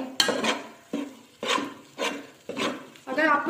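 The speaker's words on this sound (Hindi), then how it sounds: "हल्की हल्की आग पे इसे हम भूनेंगे। हमने मुसलसल चम्मच चलाना ताकि ये घी से लगे नहीं।" A spoon stirs and roasts makhana halwa in ghee in a pan over low heat, in repeated scraping strokes about every half second, close and clear.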